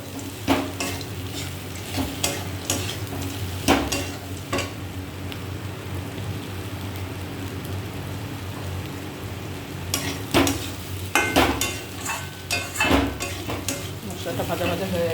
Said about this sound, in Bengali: মশলাটা ভাজা ভাজা হয়ে গেছে, এইবার সেদ্ধ করে রাখা মোচাটা দিয়ে দেবো।